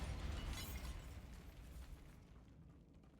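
In the Hogwarts Legacy video game, a Bombarda spell goes off as one deep, rumbling blast. The booming roar starts at its loudest and slowly fades over a few seconds, with no voices.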